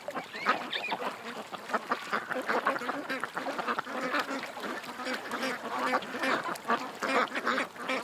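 Flock of ducks quacking nonstop in a busy, overlapping chorus, unsettled by a drone flying a few feet above them; loud, steady calls fill the whole stretch without speech.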